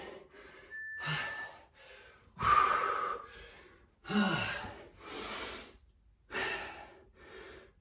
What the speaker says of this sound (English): I'm breathing heavier than I need to be.